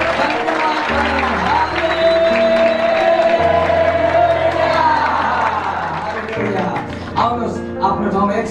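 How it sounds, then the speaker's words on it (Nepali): A church congregation at a Nepali worship service claps and cheers loudly together, with sustained keyboard-like musical tones underneath. The applause thins toward the end. "ताली बजाएर परमेश्वरलाई धन्यवाद गरौँ।"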